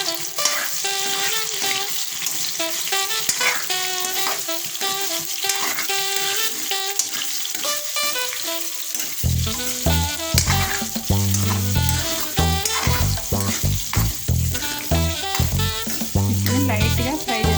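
Soy chunks (meal maker) fry in hot oil in a kadai, a dense continuous sizzle with stirring clatter, loud and close throughout.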